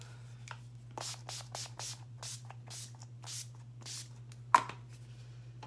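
Rapid quiet bursts of fine mist from Urban Decay De-Slick Matte Setting Spray, a dozen or so short hisses in an irregular rhythm, close by, over a low steady hum.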